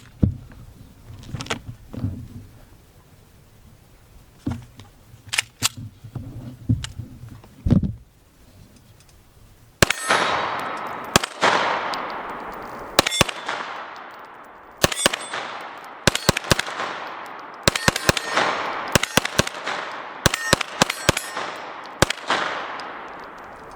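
Shots from an M17 military surplus pistol, first a few scattered reports under quieter handling noise, then a string of loud sharp shots at an irregular, fairly quick pace, each ringing out with a reverberant tail.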